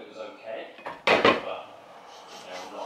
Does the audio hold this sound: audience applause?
no